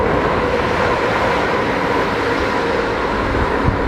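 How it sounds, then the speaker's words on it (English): A train rushes past on the busy West Coast Main Line, a steady, loud, broad roar of wheels and rail noise that holds throughout without pause. "there's a train coming"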